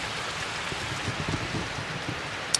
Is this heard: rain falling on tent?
yes